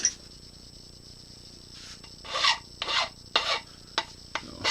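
A hand file or deburring tool rasps along a freshly cut aluminium edge in short strokes, roughly five distinct scrapes with brief pauses between them, close and clear.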